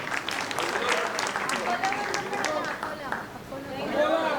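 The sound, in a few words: applause for the Miraj attendees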